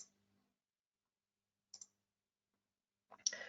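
Mouse clicks while working in RFEM 6 structural design software: a few crisp, isolated clicks separated by silence, quiet and close, the last one slightly longer.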